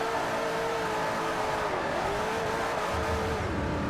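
Koenigsegg CCX supercar from Sweden in Forza 4 roars under hard acceleration, engine pitch sweeping up and shifting with a faint tire squeal, continuous and fairly distant.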